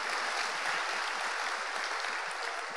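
A church congregation applauds in a soft, steady wash of clapping that stays even and somewhat distant for the whole stretch.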